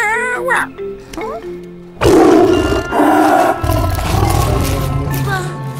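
Cartoon tigers roar loudly and continuously at close range, a rough, heavy rumble that follows a few brief tonal sounds at the start.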